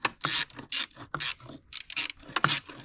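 A ratchet tightens a hose clamp on a silicone charge pipe of a BMW F40 M135i xDrive, giving several close, brisk bursts of clicking in uneven strokes with short pauses between.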